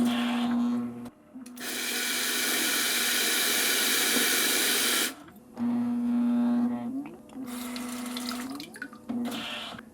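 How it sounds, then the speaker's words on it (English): Bio Bidet 1000W seat running its posterior wash, a loud continuous water spray hissing for several seconds amid electric whines and clicks, followed by shorter bursts of spray. "Let's go ahead and do a posterior wash."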